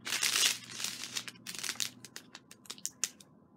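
Diamond painting canvas from a Hobby Lobby kit being rolled up close by, giving a run of crisp crinkling and crackling bursts that start dense and loud and then thin out into sharper separate crackles.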